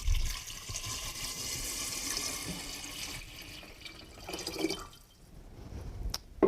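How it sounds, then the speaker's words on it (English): Water poured into a glass vase holding polished river rocks, a steady splashing, gurgling fill that runs for several seconds before easing off, ending with a few small drips and knocks. "Then adding my water."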